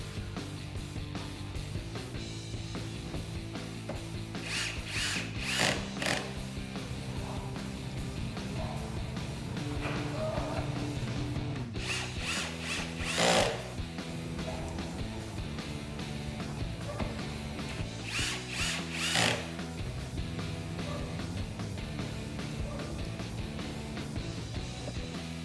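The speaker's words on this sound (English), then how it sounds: "Just need to add our 4 screws back to secure that in place." A power driver runs in four screws on the mirror assembly of a 2004-2014 Ford F150. Several short whirring bursts sound close by, spaced apart by pauses with a low steady hum underneath.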